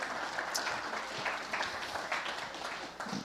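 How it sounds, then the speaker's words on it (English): Crowd at a freedom rally in Denver giving a round of applause and standing ovation, sustained dense clapping with irregular louder claps and faint crowd voices mixed in. "Round of applause. Standing ovation."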